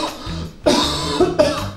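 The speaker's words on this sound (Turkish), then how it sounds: "Gelin sırayla öksürün." People take turns coughing close to the microphone, with several sharp, harsh coughs in quick succession over under two seconds.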